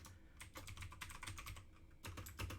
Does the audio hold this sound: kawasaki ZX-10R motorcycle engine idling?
no